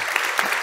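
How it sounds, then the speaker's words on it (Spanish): Brief burst of audience applause at a Parkinson's association medical talk in Burgos, moderately loud and steady with a few sharper claps standing out. "esto se merece un fuerte aplauso para los doctores y la doctora"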